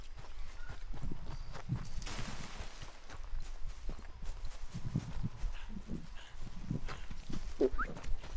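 Horse hooves clip-clop in Red Dead Redemption 2 as a steady walking rhythm of soft thuds, with faint ambient game sounds underneath and no talk.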